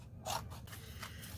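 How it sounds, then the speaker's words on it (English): Scissors trimming printed paper cards, a short crisp snip and a soft scraping cut, quiet and close. "I'm just going to trim them out."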